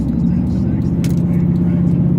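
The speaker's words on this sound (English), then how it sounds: "the truck sounds so much better now because it doesn't have that exhaust leak anymore" A truck engine runs with a steady low rumble after its exhaust leak was repaired, heard close and loud throughout the short stretch.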